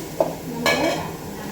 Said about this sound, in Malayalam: എണ്ണ ഒഴിച്ച് ചെറിയ ഉള്ളിയും വലിയ ഉള്ളിയും ഒക്കെ നന്നായിട്ട് വഴറ്റുന്നുണ്ട്